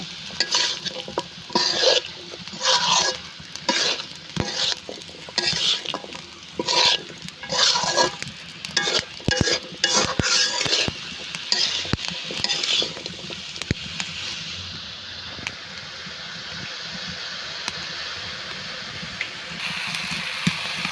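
Arum stolons, jackfruit seeds and lentils are stir-fried in a pan, with a spoon scraping in repeated rhythmic strokes over a steady sizzle that later settles into quieter frying.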